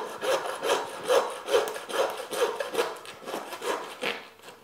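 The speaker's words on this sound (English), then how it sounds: "Again, sawing through that bone if you listen." A saw rasps back and forth through a deer's pelvic bone in a steady rhythm of about ten strokes, close and fairly loud, with no talking.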